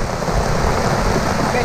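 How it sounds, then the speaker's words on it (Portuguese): Heavy rain falls in the Amazon interior, a dense, steady broadband hiss that stays loud and unbroken throughout with no distinct drops or voices. "estamos aqui no interior, muita chuva hoje"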